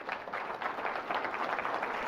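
Audience applause at the close of a local candidates' debate hosted by a chamber of commerce, a steady dense wash of clapping from a crowd that holds evenly for a couple of seconds.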